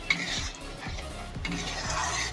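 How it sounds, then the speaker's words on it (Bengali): A paste of ground white mustard and poppy seeds is stirred in a pan with a utensil, giving repeated soft scrapes and clinks against the metal over a low, faint sizzle. "এটাকে আবারও ভালো করে নাড়াচাড়া করে নেব।"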